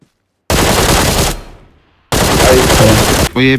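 Rapid automatic gunfire from an online shooter game, two loud sustained bursts separated by a short pause, ending with a brief tonal game sound.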